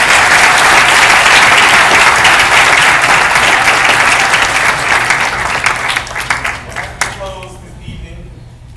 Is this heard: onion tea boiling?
no